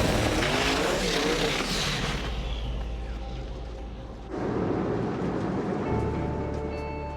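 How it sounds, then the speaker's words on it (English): A Street Outlaws drag racing car makes a pass, its loud engine roar and rushing noise fading partway through before another burst of engine sound rises near the end. "I'm excited to get in this car and start making passes and see what it can do"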